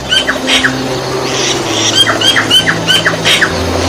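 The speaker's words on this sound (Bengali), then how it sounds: "শালিক বিভিন্ন স্বরে ডেকে থাকে" Myna birds call in a series of varied squawks and whistled chirps, several birds overlapping at moderate distance, over a steady low background hum.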